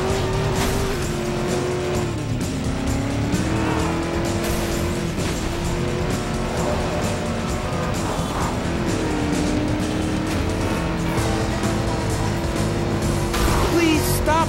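A car in Driver: San Francisco races hard through city streets, its engine droning loudly and steadily, with tires squealing repeatedly as it corners and wavering pitch from shifting revs.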